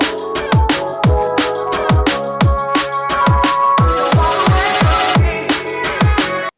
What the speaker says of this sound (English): It's got like this crunchy sort of sound to it.